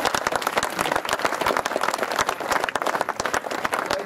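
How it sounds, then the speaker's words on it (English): A crowd gathered for a cricket club's pavilion grand opening applauds steadily, with dense, close clapping that stays loud and unbroken throughout. "So a round of applause for all of those people too"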